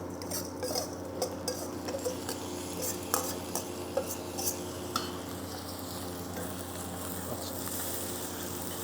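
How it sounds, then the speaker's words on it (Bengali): Full-fibre red rice is stirred into frying onion, ginger and garlic, with a soft continuous sizzle and repeated scrapes and clinks from a spoon against the pot. "আমরা এখানে চালটাকে, এই যে ফুল ফাইবার যে লাল চালটা আছে সেটা আমরা এখানে দিয়ে দেব।"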